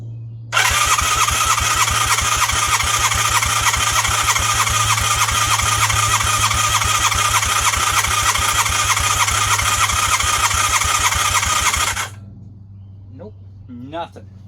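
A Honda Hondamatic 400 motorcycle's starter cranking the engine in a fast, steady whirring rhythm for about eleven seconds without catching, then stopping, leaving a low hum and faint creaks.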